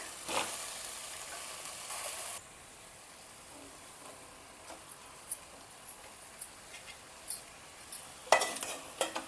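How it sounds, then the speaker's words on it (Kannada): Stuffed brinjal frying with masala in oil gives a soft, low sizzle, louder at first and then quieter, punctuated by scattered clinks and scrapes of a spoon stirring in the pan. "ಬದನೆಕಾಯಿನ ಸ್ವಲ್ಪ ಎಣ್ಣೆ ಹಾಕ್ಕೊಂಡು ಎಣ್ಣೆ ಒಳಗೆ ಫ್ರೈ ಮಾಡ್ಕೋಬೇಕು"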